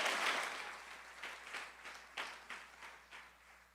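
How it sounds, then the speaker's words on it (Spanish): Church congregation applauding during a Spanish-language sermon, a moderate wash of clapping that swells at the start and then continues in uneven bursts before fading, with no voices over it. "Dale un mejor aplauso al Señor Jesucristo."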